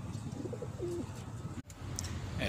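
Pigeons coo softly in a low, rounded call over a steady background murmur, a couple of short notes repeating at moderate distance.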